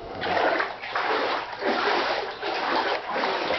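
Flood water sloshing and splashing inside a flooded house, loud, close rushing surges rising and falling in waves.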